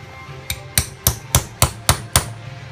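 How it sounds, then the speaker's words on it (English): Seven sharp taps from a rubber hammer on a thick aluminum cap of a Saginaw power steering gearbox, evenly spaced about a third of a second apart, close by and fairly loud, with no talking. "You can kind of tap this in a little bit with the rubber hammer"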